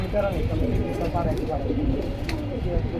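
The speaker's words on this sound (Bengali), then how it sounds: "এরকম কবুতর সিলভার লাল পাত্তি কবুতর" Silver red patti military pigeons coo in soft repeated throaty calls at a pigeon sale, heard under continuous nearby talking.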